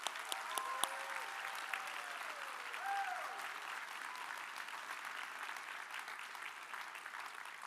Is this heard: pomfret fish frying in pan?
no